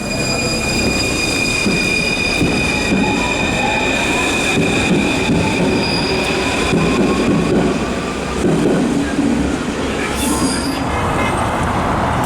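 A train in France rumbles steadily and loudly throughout, with rattling wheels and faint squealing, a brief high whine near the end.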